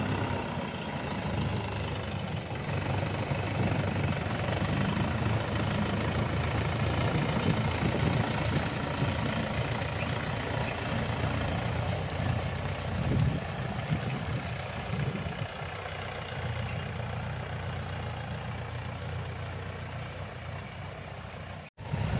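A tractor engine runs steadily in a farm field during ploughing work, a low, continuous chugging drone heard close by with no voices.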